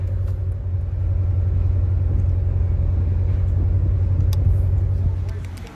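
A Chevrolet Corvette Z06 engine rumbles at idle, a deep, steady low growl heard from inside the car at moderate level, with faint background noise and no speech.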